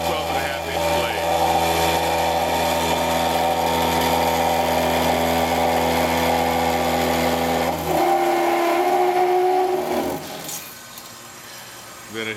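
A Doringer D350 SA cold saw with a 12.5 inch blade turning at 27 RPM cuts into metal stock with a loud, steady motor hum and a grinding tone that drops off near the end, as someone talks over it.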